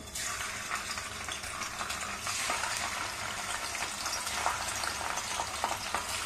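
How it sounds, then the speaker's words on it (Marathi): Pieces of paneer fry in oil in a wok, giving a dense, steady sizzle and crackle that swells slightly partway through, close and without talk. "आपल्याला तेलामध्ये पनीर चांगलं भाजून घ्यायचंय"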